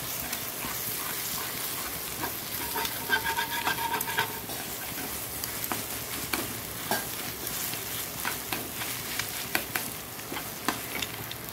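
Potatoes, onion and a cracked egg fry in a pan, with a steady loud sizzle and hiss broken by repeated scraping and stirring clicks of a utensil against the pan.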